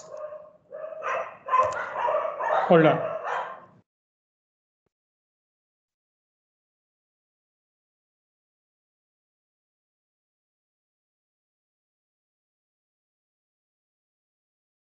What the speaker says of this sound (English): Sorry for the street dogs.